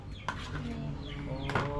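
A chicken clucks close by in short, repeated bursts amid rustic outdoor background noise, with no clear talk over it.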